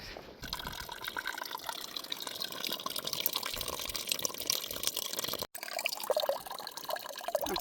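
Water runs steadily from an outdoor faucet beside the Pacific Crest Trail at Hat Creek Rim, a continuous close splashing gush lasting several seconds with a brief break near the end, no voices.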